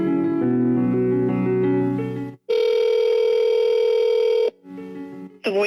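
Telephone call audio with a long steady electronic tone lasting about two seconds, preceded by a recorded automated phone voice prompt and followed by a brief gap and a short blip, like a voicemail beep.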